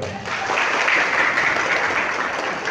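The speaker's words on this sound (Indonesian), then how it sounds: "Tepuk tangan untuk kita sekalian." Applause fills a gathering of polling-station witnesses and Democratic Party representatives in Pandeglang, a steady dense patter of many hands lasting the whole moment at fairly close range, with no talk over it.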